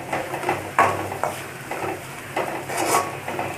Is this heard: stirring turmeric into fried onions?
yes